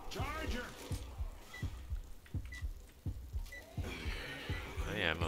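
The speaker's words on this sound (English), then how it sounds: "I hear my heart beating" Low-health heartbeat warning in Left 4 Dead 2 survival mode on the church map, a steady thumping pulse repeating about twice a second beneath game noise and chatter.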